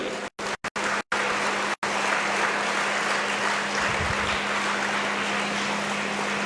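An audience bursts into sustained, dense applause after a stretch of broken, interrupted sound, and the clapping continues loud and steady to the end.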